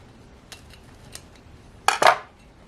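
A knife slices through a small, dense Irish soda bread baked in a mini pie maker: a couple of faint taps, then a sharp crunchy scrape of the cut through the crust, close and alone.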